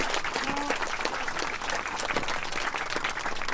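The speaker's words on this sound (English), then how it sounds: "if you want to give them a round of applause as they leave" An outdoor crowd at the Fort George historic site in Niagara-on-the-Lake claps for departing performers, a loud, steady patter of applause that fills the whole stretch without a break.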